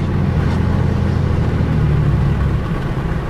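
A car with a billet valve body and fourth-gen tuning being driven, its engine and road noise a steady loud low drone throughout with no talking.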